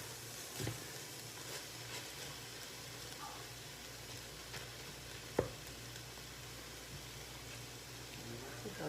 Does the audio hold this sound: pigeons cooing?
no